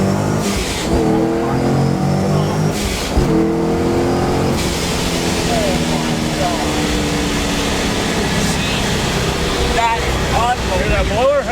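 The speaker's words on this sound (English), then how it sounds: "Hear that blower?" Supercharger blower whine from an 800hp Pontiac WS6 Trans Am, a rising and falling mechanical whine over loud engine roar heard from inside the car, with people talking over it.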